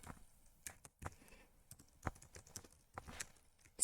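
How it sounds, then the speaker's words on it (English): Typing on a computer keyboard while entering a custom prompt script for the fish shell: quiet, irregular clicks and clacks, a few sharper key strikes standing out, close to the microphone with no talking. "So what I'm typing is just sashimi team for fish shell"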